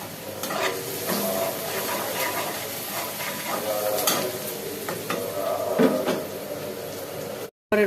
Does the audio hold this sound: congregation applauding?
no